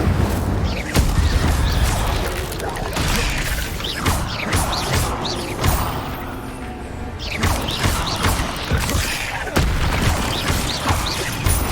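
Incendio fire spell cast in Hogwarts Legacy amid combat, a series of heavy booms, thuds and crashing impacts with whooshing bursts across the passage, loud and close with game effects layered throughout.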